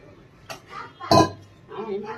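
A spoon stirs a lemon juice drink, making a few scattered clinks against the glass, one louder knock near the middle, with a person talking alongside.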